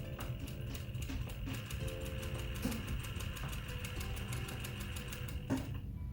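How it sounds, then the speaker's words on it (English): A sewing machine running continuously while stitching a French seam in fabric, with a fast, even mechanical whir and rhythmic needle ticking throughout, fairly quiet and close. "as you're sewing."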